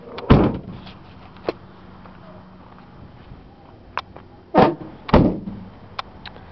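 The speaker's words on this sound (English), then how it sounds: "And you close the doors." Doors of a Ford extended-length cargo van with a wheelchair lift being shut: two heavy thuds close together near the five-second mark, with a sharper bang early on and a few lighter knocks in a quiet setting.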